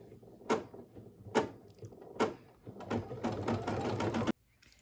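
A home embroidery machine stitches a heavier outline on a snowglobe Christmas ornament, giving a few separate whirring bursts and then a longer stretch of steady, close mechanical stitching that stops abruptly.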